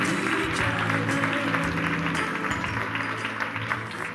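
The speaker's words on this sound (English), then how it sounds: "Huge round of applause for you guys." An audience at a charity fundraising show gives a sustained round of applause, steady clapping with tonal background sound behind it and little talk.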